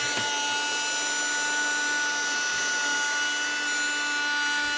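A Henry Hoover mini vacuum cleaner runs steadily with a constant whining motor hum and airflow, close and unbroken, with no talk.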